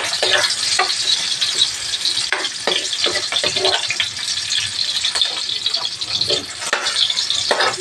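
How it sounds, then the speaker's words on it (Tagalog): Chopped onions sauté in a pan for a mung bean dish, a loud close sizzle with repeated scraping stirs and rattles of the utensil against the pan. "Lutuin muna natin ang mabuti yung sibuyas"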